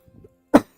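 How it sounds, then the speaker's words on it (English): A single short, rough throat-clearing burst close to the microphone, preceded by a faint, brief low murmur. "hold on, I'm going to clear my throat."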